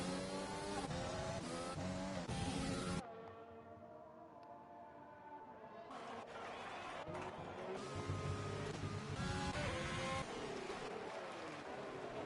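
Formula 1 cars roar in the F1 2020 racing game on the Canada circuit, engines loud and sustained, with a brief drop around three seconds before the high revving resumes.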